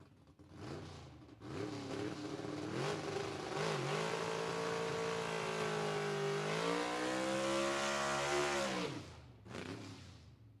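A 1953 Chevrolet drag racing car called the Rusty Bullet revs loudly at a dragway, its engine climbing and surging in pitch through sustained throttle blips before cutting off abruptly near the end.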